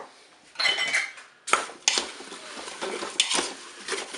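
Fruit compote of apples and pineapple is stirred with vanilla sugar inside a Cookeo multicooker pot. Utensil scrapes and clinks against the pot's metal bowl come in short, uneven bursts, close and fairly loud.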